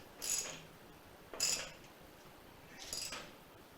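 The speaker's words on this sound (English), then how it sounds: "handy dandy 1/2 inch drive ratchet on our axle socket. Start snugging it down." A half-inch drive ratchet on an axle socket snugs down the rear axle of a 2014 Harley Street Glide during a tire change, giving three short, faint bursts of metallic clicking spaced about a second apart, with no talking.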